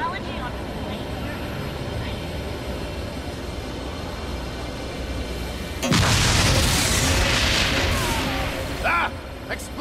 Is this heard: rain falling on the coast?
no